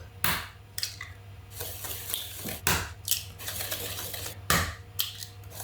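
A whisk clatters against a mixing bowl as eggs are beaten into cake batter. Irregular scraping and tapping strokes repeat close by, over a steady low hum, with no talking.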